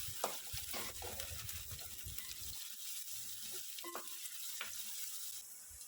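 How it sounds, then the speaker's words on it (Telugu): Sliced onions and slit green chillies fry in oil for a fish curry, a soft steady sizzle with spoon scrapes and stirring knocks early on, then quieter frying with a few light clinks. "అలాగే పచ్చిమిర్చి చీలికలు కూడా వేసుకొని వీటిని దోరగా ఫ్రై చేద్దాము."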